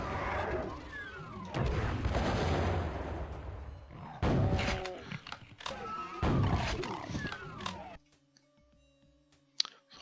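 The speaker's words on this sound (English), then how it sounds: "we're going to go ahead and introduce ourselves to them with the rocket launcher" A rocket launcher fires at Revenants and Pinkies in DOOM: repeated booming blasts and crashing explosions mix with monster roars and growls, loud and dense, then give way to quieter game ambience with a final sharp hit.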